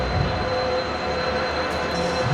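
Inside a nearly empty general coach of a train on the Shalimar to Puri route, a steady loud rumble of running wheels and carriage noise continues without a break, with faint squeal tones on top.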